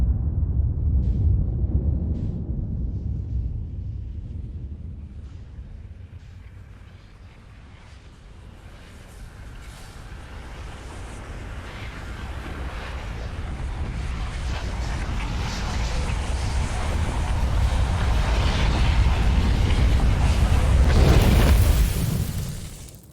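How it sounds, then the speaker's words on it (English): A massive explosion from the sun going supernova in the video game Outer Wilds, a deep rumbling roar that swells steadily over about twenty seconds to a loud, sustained climax before cutting off abruptly. "the sun explodes and the entire solar system is consumed by the blast"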